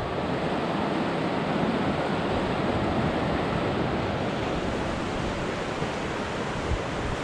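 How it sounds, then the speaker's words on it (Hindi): A river in Kasol, Himachal rushes past close by in a loud, steady, unbroken wash of flowing water, with no voices. "और ये पानी की जो आवाज़ आ रही है ना"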